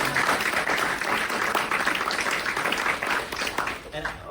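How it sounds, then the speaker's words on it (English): Audience at a startup pitch event claps loudly and continuously for the presenter, a thick, close burst of applause that tapers slightly toward the end. "Call the presenter. Round of applause."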